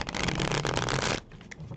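Tarot cards riffle-shuffled in a quick, dense flutter of papery slaps, close and steady for about a second before stopping, with quiet room tone after and no talk.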